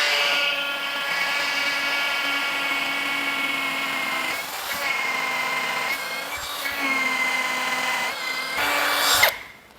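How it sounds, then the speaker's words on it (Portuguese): A power drill with a 9 mm bit bores a hole in wood, running as a loud, steady high-pitched whine for several seconds, dipping briefly a few times as the bit bites, then stopping abruptly. No one speaks. "Agora vamos simular que a gente precisa fazer um furo aqui nessa madeira."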